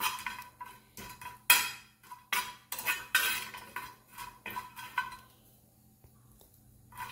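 A spoon stirs freshly roasted garam masala spices around a hot pan with the flame off, giving a run of loud, close metallic scrapes and clinks that thin out into quiet near the end.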